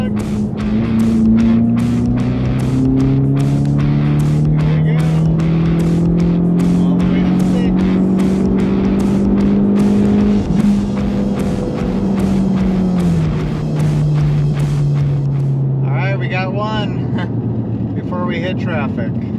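Tuned Ford EcoBoost pulling hard in fifth gear from about 3,000 RPM, the engine tone rising steadily then dropping off, loud inside the cabin with people talking over it.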